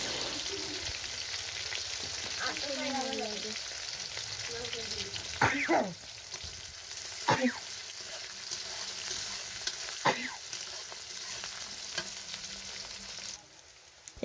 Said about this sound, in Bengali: পেঁয়াজগুলোকেও লালচে করে ভেজে নেব